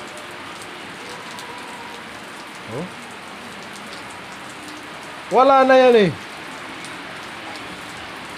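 Steady rain patters on surfaces throughout, with a person exclaiming briefly midway over the constant downpour.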